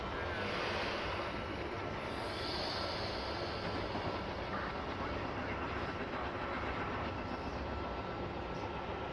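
A train on the Northeast Corridor rushes past in a loud, steady broadband rumble with faint rail clatter, heard from aboard another moving train, with only faint traces of voices.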